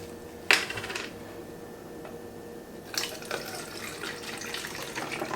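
Apple cider vinegar and water are poured through a funnel into a Masterbuilt smoker, a soft continuous trickle with a couple of sharp metallic clinks.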